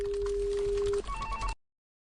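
Outgoing call tone while ringing a personal mobile phone, a steady single-pitch tone that breaks into a quieter broken pattern of beeps before cutting off abruptly.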